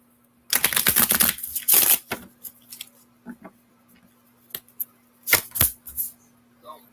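Oracle cards shuffled by hand in a few quick riffling bursts, close and fairly loud, separated by short pauses and lighter taps and shuffles, with a steady faint hum beneath.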